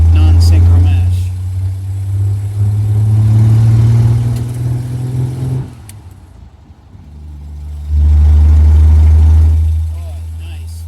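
A 1953 Hudson Super Wasp engine and exhaust while driving, a loud, deep drone that rises under acceleration, dips briefly, then surges again, with someone talking over it.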